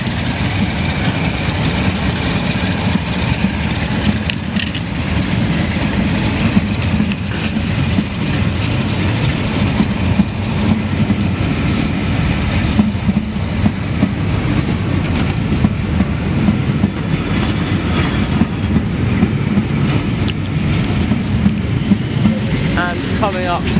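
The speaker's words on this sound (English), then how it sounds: "This is a West Coast Railways tour promoted by the Branch Line Society, which has West Coast Railways 47772 on the front." West Coast Railways diesel locomotive 47772 hauls a tour train past Guildford station, a loud continuous rumble and engine drone with rolling wheel noise lasting throughout, close by, with faint voices underneath.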